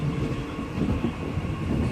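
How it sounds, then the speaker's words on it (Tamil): Kovai Express train running on the tracks in southern India, a steady rumbling roll of wheels with faint rhythmic clatter, heard close from on board. "நம்ம ட்ரெயின் இப்போ எக்ஸ்பிரஸ் ட்ராக்கு போகுது."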